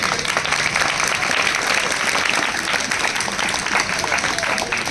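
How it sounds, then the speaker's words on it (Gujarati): An audience at a primary school Republic Day function breaks into loud, sustained clapping, a dense, even roar of many hands that stays strong throughout, close by and without a break. "જોરદાર તાળીઓથી વધાવો આ બધાને"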